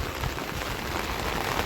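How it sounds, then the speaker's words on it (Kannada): Heavy monsoon rain falling in Kodagu near the flooded Kaveri river, a dense, steady hiss of downpour close by with no voices. "ತುಂಬ ಮಳೆ ಬರ್ತಾ ಇದೆ ಕೊಡಗಲ್ಲಿ."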